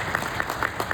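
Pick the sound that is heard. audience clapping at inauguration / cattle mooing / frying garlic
audience clapping at inauguration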